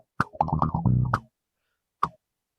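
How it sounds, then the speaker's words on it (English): Palm-muted electric bass played by Les through an envelope filter and distortion: a burst of short, choppy, buzzing notes with a sharp attack, then silence and one final clipped note, loud and alone. "it's cool to hear Les play kind of palm muted with the envelope filter"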